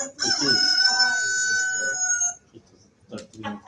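A rooster crows once, loud and close, played as a signal at a student network event in Varna, Bulgaria; the long crow is followed by brief voices and a short cluck-like sound.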